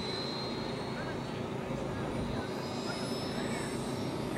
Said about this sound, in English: And the flap sail on the aircraft as it comes in now.